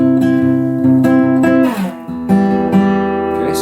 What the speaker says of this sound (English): so you get that sliding sound